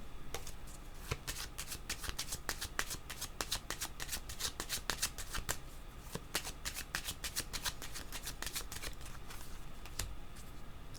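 Tarot cards are shuffled by hand in a steady run of crisp, rapid riffling flicks, close and fairly loud, with no voices over the shuffling.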